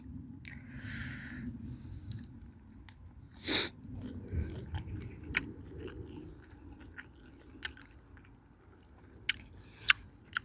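Someone chews rice during an outdoor meal in the forest, with soft, irregular crunching bites close by over a low background hiss and occasional small knocks.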